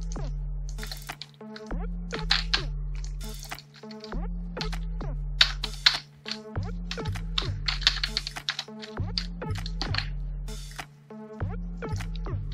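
Rapid, irregular keystrokes on a computer keyboard while entering banner text in Photoshop, close and crisp clicks in bursts with brief pauses and no talking.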